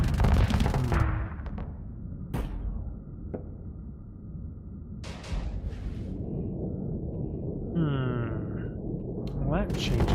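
Manually fired spaceship weapons in the indie space game Starsector, sharp loud blasts and zapping shots in sporadic bursts with sweeping electronic tones between them, under occasional voice.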